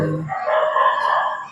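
A dog near a haunted school lets out a drawn-out howling bark, a single wavering yowl lasting over a second after a brief lower grunt, close and fairly loud.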